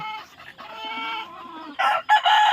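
Chickens cluck up close, then a rooster crows loudly in two bursts near the end.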